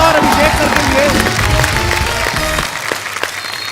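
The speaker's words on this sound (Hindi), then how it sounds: "जोरदार तालियां एक बार अजय सर और अभिषेक सर के लिए" Studio audience applause greets two guests on a Hindi comedy talk show, clapping and cheering blended with loud music and a voice throughout, the music dropping out toward the end while the crowd carries on.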